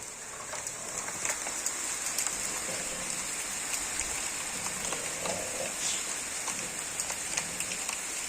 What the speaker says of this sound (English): It is actually thick hailstones.